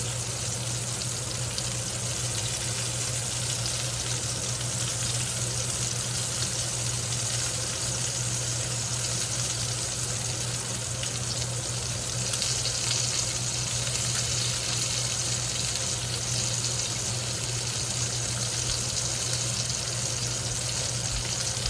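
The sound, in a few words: quail and onions sizzling in pan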